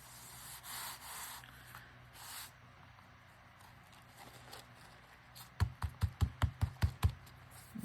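Napkin paper being rubbed flat onto a surface during a napkin craft: soft scuffing and rubbing strokes, then a quick run of about eight sharp, regular brushing swipes near the end, close and moderately loud with no talking.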